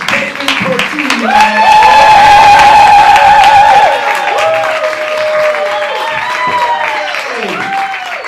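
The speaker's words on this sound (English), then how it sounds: "Y'all start clapping right now. Make some noise." Audience at an improv comedy festival claps and cheers loudly as a performer is welcomed to the stage, a dense steady roar with whoops and shouts that fades somewhat toward the end.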